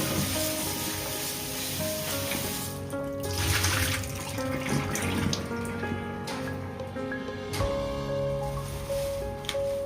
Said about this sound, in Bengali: এবার এগুলোকে আমি ভালো করে জল দিয়ে ধুয়ে নিই।